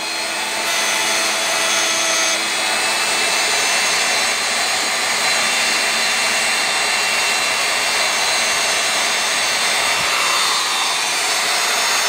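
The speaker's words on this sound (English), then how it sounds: "I'm surface grinding on the mill." A tool post grinder surface grinding on a milling machine makes a loud, steady, high-pitched whine and rushing hiss that runs without a break, close and alone.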